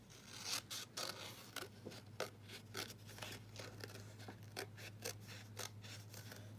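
Scissors snip through designer series paper for a handmade card, a close series of quick, crisp cuts in an irregular rhythm over a low steady hum.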